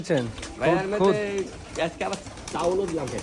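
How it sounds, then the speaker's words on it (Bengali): Pigeons on a farm of about eighty birds coo nearby in repeated low, throaty phrases, with light background noise between the calls. "প্রায় আশি পিস কবুতর রয়েছে"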